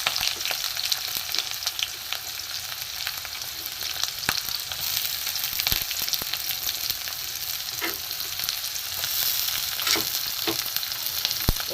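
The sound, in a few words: chopped onion and green chili frying in pan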